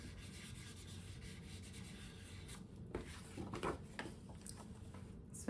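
A paper band being burnished down onto a card panel for a double Z-fold card, giving a steady close rubbing and scraping texture with a few brief louder strokes near the end.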